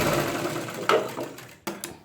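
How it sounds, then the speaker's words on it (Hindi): Sewing machine stitching trouser fabric for a Punjabi pajama or palazzo, a close, buzzing run of rapid stitches that pauses briefly and restarts, with no talk over it. "अब इसको आप सिलाई लगाएं"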